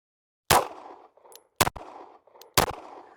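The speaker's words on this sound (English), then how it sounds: "I'm just going to fire it from double action right here" RTI German SIG P226 pistol fired in double action, three loud, sharp shots about a second apart, each followed by a brief ringing echo in an otherwise quiet setting.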